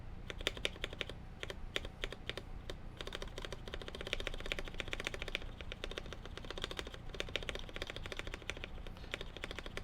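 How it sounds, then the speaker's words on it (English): Spacebar on an E6.5 custom mechanical keyboard fitted with Ink switches and stabilizers, pressed over and over in a fast, steady stream of crisp, close clacks with no voice present. "Let's try the spacebar."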